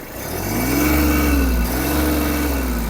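A Kubota B-72 mini tractor's small engine revs up loudly, its pitch rising and wavering as it holds at high speed, close and continuous for a few seconds.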